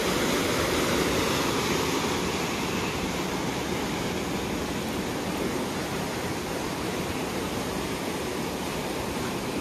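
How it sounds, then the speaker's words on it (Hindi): Water pours through an open dam, heard from high above as a loud, steady rushing roar that continues unbroken with no voices. "तो यहाँ से पानी का फ्लो देख लीजिए, हम लोग बहुत हाइट पे है ना"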